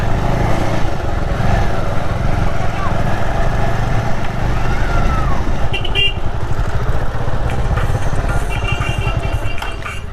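A motorcycle engine runs steadily with a low rumble near a bus depot in Gangapur, mixed with street noise and a brief higher-pitched sound midway.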